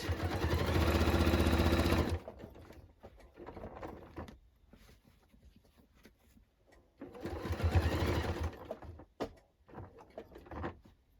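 A sewing machine stitches the back of a denim jacket in two loud, fast bursts separated by quieter handling noises and clicks.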